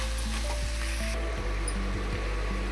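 Mixed vegetables for vegetable rice fry in a pan until half cooked. A loud, steady sizzle holds throughout, with a few soft bumps of stirring.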